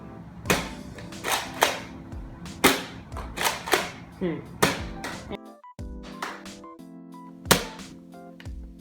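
Nerf Fortnite SP-L blaster firing foam darts with its barrel extension removed: about nine sharp, close shots at uneven intervals, each a snappy pop with mechanical clatter between them, then a quieter stretch of handling sounds.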